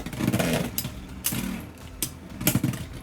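Beyblade X spinning tops battling in a stadium, a steady whirring hum broken by several sharp metallic clacks as the tops collide, close and fairly loud with no voices.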